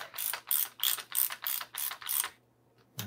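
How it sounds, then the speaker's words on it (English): A ratchet turns a 26 mm socket on a 2019 FOX Rhythm 34 FLOAT fork during a damper service, clicking in about eight quick, close, evenly spaced bursts, then a pause and one last short burst. "First, we'll use the ratchet"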